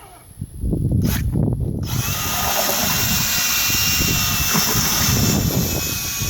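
A handheld power drill with a drywall mud mixing paddle whirs up loud and steady as it churns a bio digester mixture of berries, running continuously after a brief start.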